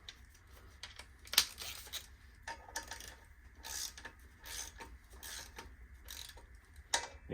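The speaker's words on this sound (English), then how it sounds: "So we're going to go 24 foot-pounds on the torque wrench for these." A torque wrench tightens engine bolts to 24 foot-pounds during a K-swap on a Honda S2000, giving a series of quiet, irregular ratcheting clicks that are faint and close, with a few sharper clicks.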